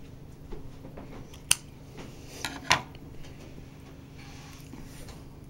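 Scissors snipping a press-on nail sticker, two or three faint, sharp clicks against a quiet room background.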